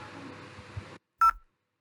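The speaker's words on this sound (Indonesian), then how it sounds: "Dari telepon sini kita akan mencoba nelpon ke seberang." Brief DTMF keypad tone from a simulated VoIP phone in Cisco Packet Tracer, a single short beep sounding alone after a stretch of background hum cuts to silence.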